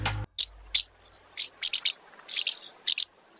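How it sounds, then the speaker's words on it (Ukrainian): Common house martin (Delichon urbicum) calling: a string of short, bright chirps and twittering notes in uneven bursts, fairly close against a quiet background, after a brief low thump at the start. "До речі, голос ластівки міської звучить саме ось так."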